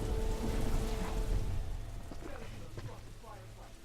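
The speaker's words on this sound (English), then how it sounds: "Combined with the constant background hum of the rain." Steady rain falls in The Last of Us, a constant hiss that is louder at first and then eases to a softer background patter.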